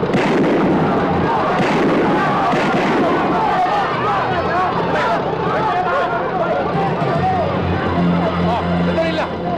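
Rapid bursts of gunfire in a 1990 Filipino action film, sharp repeated shots crackling over shouting voices and general commotion, loud and continuous for several seconds.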